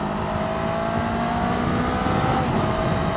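Adventure motorcycle accelerating at full throttle on the road, a loud continuous engine roar with rising pitch heard up close, steady and unbroken over wind noise.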